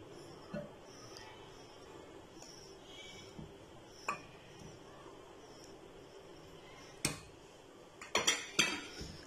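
Chicken pieces being mixed with ingredients in a bowl for crispy fried chicken, heard as scattered clinks and scrapes of a utensil on the dish, a few sharper knocks near the end, with faint room noise.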